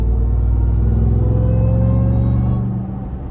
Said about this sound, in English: And I'm just giving the littlest bit of gas.